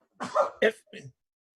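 A single sneeze followed by a short vocal aftersound, close and fairly loud, in an otherwise quiet room.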